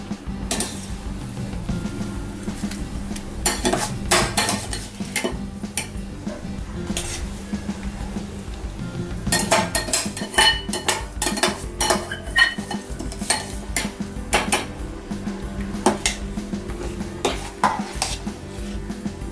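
Millet grains go into a pot for sweet pongal and are stirred with a metal spoon, giving repeated close scraping and clinking against the pot in an uneven rhythm with no talking.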